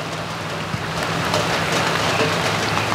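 Heavy rain pours steadily over flooded rice paddies in the Mekong Delta, a dense continuous hiss close by with no voices.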